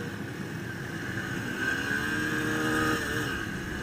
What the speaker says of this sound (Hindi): फर्स्ट गियर चैलेंज स्टार्ट करते, गाड़ी को मैं जीरो पे यहाँ पे स्टॉप करके फिर से स्टार्ट करते